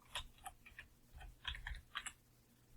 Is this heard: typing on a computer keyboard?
yes